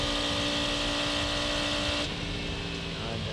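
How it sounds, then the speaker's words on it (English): A Cadillac prototype race car engine roars on the high banking at Daytona during the Rolex 24, a loud sustained high-pitched whine that shifts tone as the car passes, with track ambience around it. "Sound of the Cadillac motor up on the high banking."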